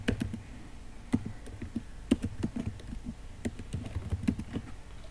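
Keystrokes on a computer keyboard while Python code is typed into a Google Colab notebook, coming in short irregular bursts of crisp clicks and taps with brief pauses between them, close and moderately quiet, with no voices.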